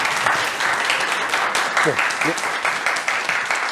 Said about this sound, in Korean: 오늘 너무 좋은 강연 해주신 이병욱 교수님께 다시 한번 큰 박수 부탁드립니다